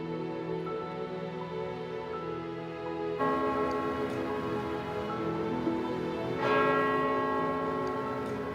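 Church bells of St Paul's Cathedral ringing out over London, a sustained, resonant peal that swells louder partway through and again near the end, with no one speaking.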